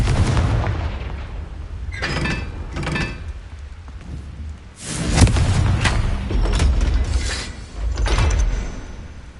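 The Confringo fire spell in Hogwarts Legacy is cast in combat, giving heavy booming blasts and thuds over a dense rumbling game soundscape, loud and close.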